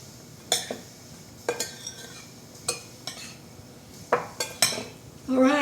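A corn mixture with oregano, cumin and salt being stirred in a bowl, giving sparse clinks and scrapes of a utensil against the dish, about a dozen distinct knocks with quiet gaps and a louder scrape at the end.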